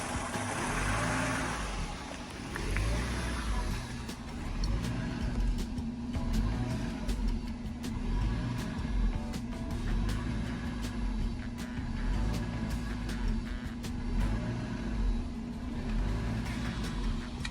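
Mercedes-Benz 500SEC engine idling roughly from an OVP relay fault, a steady low rumble whose pitch rises and falls in repeated surges as if about to die out, close and unbroken.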